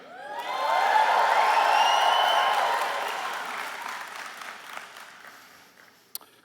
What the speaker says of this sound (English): let me hear a big cheer